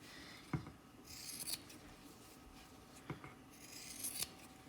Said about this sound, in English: Now I'm going to trim it one last time because fraying it gets the ends all uneven